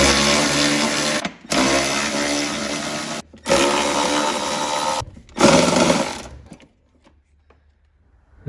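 Power tool driving a 10mm socket to remove bolts from the steering shaft of a John Deere lawn tractor, heard as three loud whirring bursts with brief pauses between them, then a fourth shorter burst before it falls quiet.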